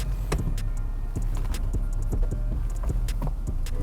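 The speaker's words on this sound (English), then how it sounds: "Okay, let's pack the roof away." The fabric soft top of a 2022 BMW M4 Competition Convertible folds away with a steady electric motor hum and a few soft mechanical clicks, heard close up and with no talking.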